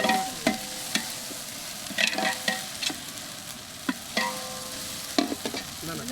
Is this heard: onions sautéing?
yes